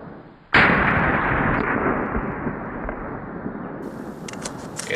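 A rifle fitted with a stock M16-style birdcage flash hider, the factory muzzle device of a SIG P556, fires one sharp loud shot, then a long rolling echo fades slowly over several seconds outdoors.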